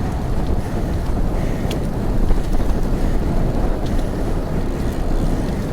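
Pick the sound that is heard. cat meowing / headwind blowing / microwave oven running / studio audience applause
headwind blowing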